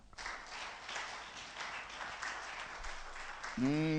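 A congregation at a worship evening claps and cheers for the Lord in a moderate, fairly even wash of applause and voices, with a sung or held musical tone rising at the very end.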